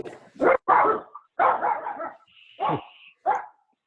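A puppy barks close up during a council meeting held over a video call, giving about six sharp, loud yips and barks in an uneven sequence, each separated by brief silence, with no talk over them.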